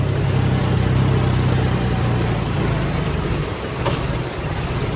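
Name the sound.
tractor engine running while turning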